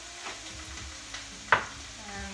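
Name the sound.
stir fry noodles being mixed in a pan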